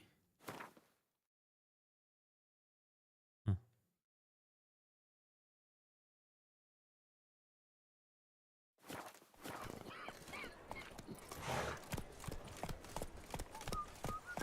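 Horse hooves galloping in Witcher 3 Wild Hunt, with a rapid, dense run of clip-clopping beats starting after a long near-silent stretch and a couple of isolated knocks.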